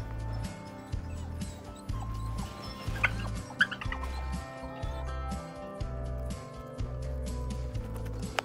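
Chickens cluck softly in a small backyard coop on a cold day, a few scattered calls over a steady, rhythmic low mechanical hum.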